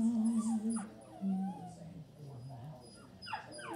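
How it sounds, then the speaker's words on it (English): Indoor dogs whimper and whine in high, wavering cries with a few short yips, faint and close, while puppies are kept apart; a person talks quietly at times. "the doggies want to come in to see the puppies"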